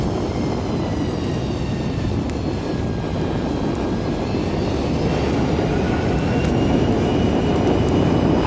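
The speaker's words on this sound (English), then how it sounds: "they are leaving Washington airspace and escort fighters are trailing the aircraft" Aircraft engines roar steadily as a plane leaves Washington airspace with escort fighters trailing it, a loud continuous drone with a faint whining tone running through the whole stretch.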